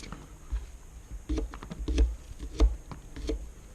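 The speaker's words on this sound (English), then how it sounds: "Meantime, I'm going to cut up some of these mini cucumbers." A knife trims and slices mini cucumbers on a cutting surface, giving irregular clusters of crisp taps and dull low thumps, fairly close and with no talking.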